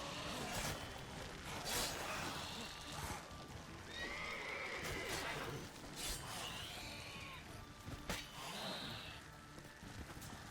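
A horse in Witcher 3 whinnies and neighs several times with hoof clip-clops mixed in, fairly quiet against ambient game sound.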